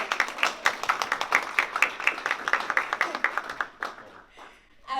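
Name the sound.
audience applause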